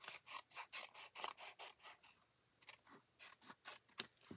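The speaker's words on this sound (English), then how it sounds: "And we are just going to trim that." Scissors trim paper for a gift card holder, making a close, crisp series of rapid snipping cuts, a brief pause, then more quick snips, all in an otherwise quiet room.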